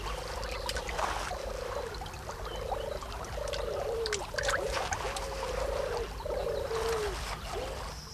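Large frog croaking in a steady series of about eight even, repeated calls, close and clear over a constant background hiss with faint water sounds, no talk.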